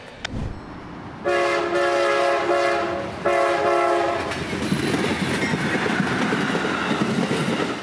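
A loaded CSX freight train heads southbound out of Tampa, its horn sounding in two long blasts before the cars keep rumbling and clattering past nearby.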